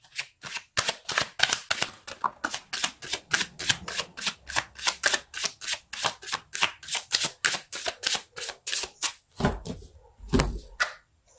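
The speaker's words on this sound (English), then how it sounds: "Let's pull a card for your challenge." Tarot cards being shuffled by hand in a rapid run of about two dozen crisp, evenly spaced riffling slaps, close and clear, ending with a few softer taps.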